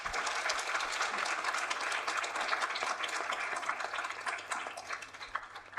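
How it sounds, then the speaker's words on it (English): An audience gives a sustained round of applause for panelists at an economics panel discussion, a steady, even wash of many hands clapping at moderate distance, with no voices over it. "I think they really do deserve a massive round of applause"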